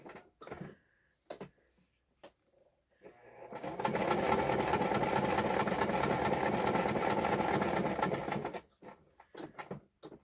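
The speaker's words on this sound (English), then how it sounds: "The old sewing machine does pretty good on paper" An old sewing machine stitches through paper in one steady whirring run of about five seconds, mid-loud and close, with brief rustles and handling noises before and after.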